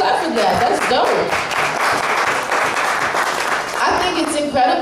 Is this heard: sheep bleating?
no